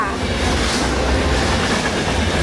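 A train at a BTS Skytrain station gives off a steady, loud rumble and rolling wheel noise that holds unbroken throughout, with no voices over it.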